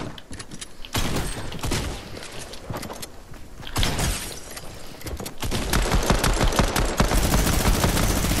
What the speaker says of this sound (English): Oh, of course, a minigun.